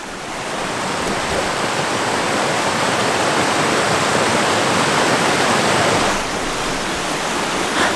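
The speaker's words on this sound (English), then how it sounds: "I want to get a shot of the small waterfall that's right in front of me." A small waterfall at Derwent Water rushes in a loud, steady roar of falling water, close and continuous throughout.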